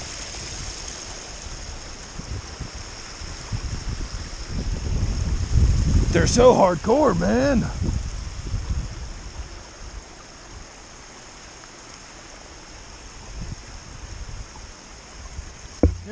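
A stream on the Appalachian Trail flows with a steady, even rush of water throughout, and someone speaks briefly over it partway through.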